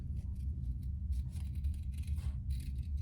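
Scissors cutting waterproof canvas up close, a series of soft crisp snips and rasps over a low steady background hum.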